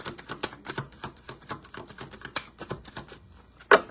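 Tarot cards being shuffled: a rapid run of crisp riffling taps and flicks, close and fairly loud, with no talking.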